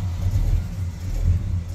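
A Ford F100 truck engine with a leaking exhaust manifold gasket runs close by, a loud low rumble with rhythmic pulsing and slight revving swells across the short stretch.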